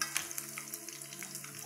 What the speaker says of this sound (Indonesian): kayak ini aja setengah matang ya gorengnya ya, nanti bumbunya biar merasuk